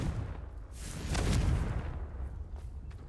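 A booming fire-spell blast from Hogwarts Legacy erupts with a deep rumble that swells to a peak in the middle and then fades, followed by fainter crackling debris.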